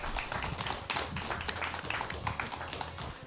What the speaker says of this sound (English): congratulations to Haas Hall Rogers for being runner-up for Class 2A